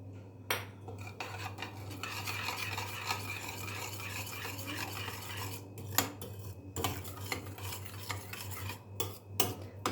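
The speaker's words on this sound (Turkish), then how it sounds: "Bunu yani mikserden çıkmıyoruz. Veya kaşıktan karıştırıyoruz." A spoon stirs yogurt kömbe cake batter spiced with cinnamon and mahlab in a bowl, giving close, repeated scraping and clinking strokes with irregular rhythm over a low steady hum, no talking.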